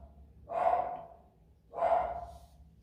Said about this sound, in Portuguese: minha cachorrinha acho que vai querer participar da live